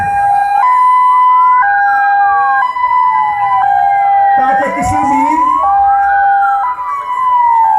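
An ambulance siren wails continuously, loud and close, its rising and falling tone cycling for several seconds while someone speaks over it.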